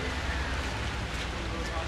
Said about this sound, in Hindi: पूरा बारिश हो रहा है एकदम।